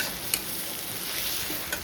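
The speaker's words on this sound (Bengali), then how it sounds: "চিকেনটা এখন কষাচ্ছি।" Chicken being sautéed and stirred in a small wok, a steady frying sizzle with two sharp scrapes of the spatula against the pan, close and without talk.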